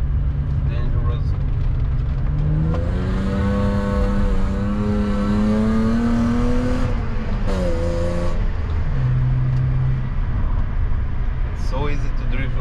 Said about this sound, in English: the engine giving all its power